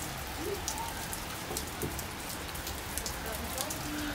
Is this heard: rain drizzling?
yes